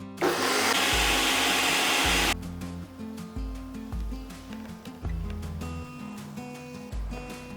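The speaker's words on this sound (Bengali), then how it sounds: "দিয়ে দিচ্ছি পোস্ত, দিচ্ছি সর্ষে, সাথে কাঁচা লঙ্কাটা দিয়ে অল্প একটু জল দিয়ে এটাকে স্মুথ করে বেটে নেব।" A kitchen mixer grinder blends poppy seeds, mustard seeds, green chillies and a little water into a paste in a loud, harsh whir lasting about two seconds. Music continues after the motor stops.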